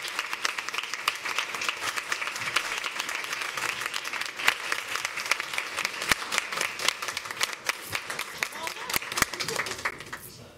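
A school board meeting audience applauds Lindsay as she walks up for a photo, with steady, full-room clapping that holds for about ten seconds, briefly mixed with a few voices, before fading out at the end.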